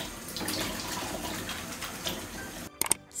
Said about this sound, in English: don't forget to wash your hand.